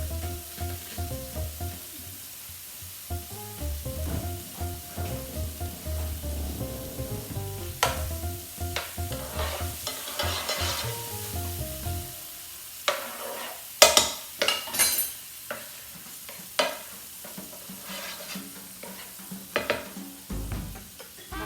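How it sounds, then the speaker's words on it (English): Butter sizzles and crackles steadily in a hot pan for creamy vodka chicken penne, with stirring scrapes, utensil clinks against the pan and occasional sharper knocks throughout. "Now we're going to add our butter."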